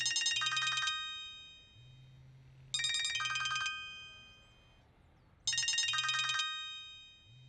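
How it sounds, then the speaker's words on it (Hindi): A telephone rings in a domestic drama scene, playing three loud bursts of a bright electronic ringtone at regular intervals. A soft low tone repeats between them, and no one speaks. "आपका फोन बजता है।"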